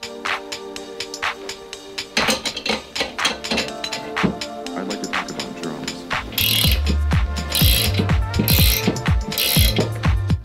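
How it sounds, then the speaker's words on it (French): A ratchet wrench clicks in rapid bursts as it tightens a nut to press a silent block into a car suspension arm, with metallic knocks and a heavier grinding clatter toward the end, no talking. "Je vais me servir de la clé à cliquer pour cliqueter"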